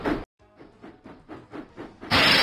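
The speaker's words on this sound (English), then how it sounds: "James puffed proudly into Farmer McCall's farm" Cartoon steam engine from a Thomas and Friends children's game puffing in a steady chuffing rhythm of about eight beats, ending in a loud burst of hissing steam.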